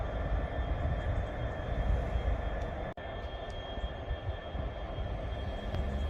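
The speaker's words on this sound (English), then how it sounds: "Now the train has green light. It's gonna go." A steady low rumble of a train at Stowmarket railway station pulling away on a green signal, continuous and moderately close with a droning hum and a brief dip midway.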